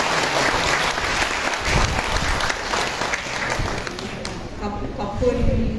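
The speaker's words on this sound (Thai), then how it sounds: "ขอเสียงปรบมือเป็นกำลังใจให้กันอีกครั้งนึงครับ" Applause from the audience at a public forum on welfare-state constitutional reform, a dense run of clapping that thins out near the end as a voice begins to speak.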